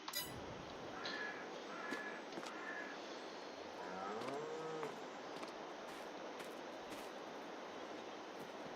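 Cattle moo faintly at a distance on a farm in Farming Simulator 22, a few low calls rising over quiet steady outdoor ambience.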